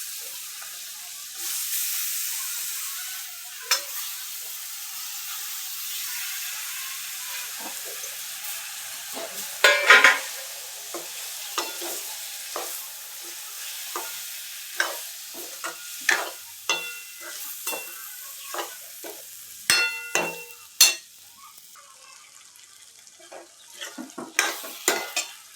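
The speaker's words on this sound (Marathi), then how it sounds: "कांदा कापून घेतला, कांदा धुवून घेतला. फ्राय करून घेऊ आता आपण" Onions for a Malvani prawn dry curry fry in a pan, a soft hiss broken by scattered sharp crackles and spatters that grow busier later on, close by with no talking.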